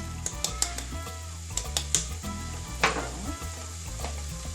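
Meat and onions fry in oil in a pan for a couscous sauce, a steady close sizzle broken by scattered clicks and scrapes of stirring.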